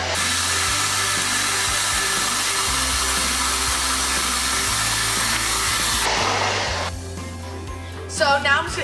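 Electric mixer whirring steadily while mixing cookie dough ingredients, loud and continuous for about six seconds before it shuts off, followed by brief talking.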